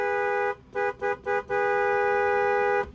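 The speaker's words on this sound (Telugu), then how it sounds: "హారన్ చూపిస్తాండా" Horn of a used car being demonstrated, sounding as one long honk, then three short quick toots and a final long sustained blast, loud and close.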